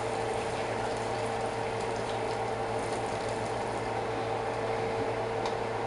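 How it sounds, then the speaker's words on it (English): Potato cooking water pouring out of a pot held shut with a spatula, a steady rushing, gurgling drain that stays even and fairly loud throughout with no pauses and no voices. "You drain out as much water as you can"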